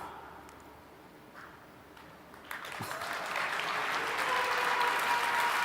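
Audience applause at a software keynote, with a few scattered claps at first that swell into broad, sustained clapping from a large crowd.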